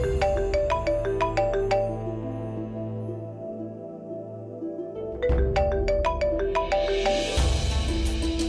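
A phone rings with a dialed call, a bright repeating electronic melody of plucked tones that plays loudly and alone, pausing briefly midway before resuming with a noisier wash at the end.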